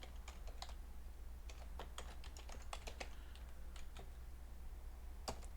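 Typing on a computer keyboard while coding a SolidJS and Bulma to-do list, a soft, steady patter of quick key clicks in irregular bursts over a low hum, with no speech.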